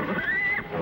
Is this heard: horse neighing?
yes